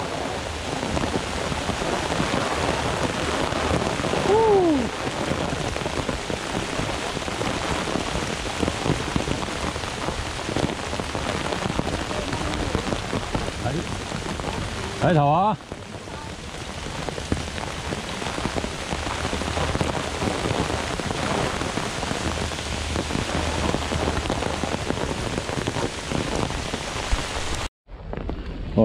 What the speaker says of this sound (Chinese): 哇！ 哎， 咁大雨。